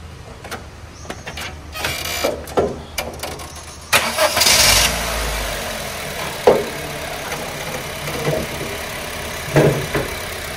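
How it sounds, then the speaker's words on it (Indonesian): A used Honda BR-V E manual car's engine cranks and catches with a loud burst, then settles into a steady idle, with clicks, clunks and handling noises scattered around it. "hidupin mesinnya."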